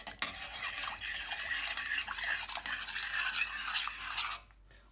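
A spoon stirs vinegar pickling liquid for cauliflower pickle, making a close, continuous swishing and light scraping with small clinks against the pot, stopping abruptly near the end.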